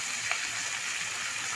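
A fish head frying on a hot tawa griddle, a steady close hiss and crackle of oil running unbroken throughout.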